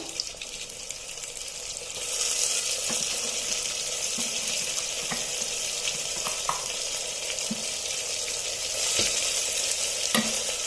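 Onions fry in a pan as ground gravy masala is added and stirred, making a loud, continuous sizzle that swells partway through, with occasional clinks of a spoon against the pan.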